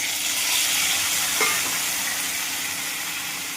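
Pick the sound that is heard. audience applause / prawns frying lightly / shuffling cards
prawns frying lightly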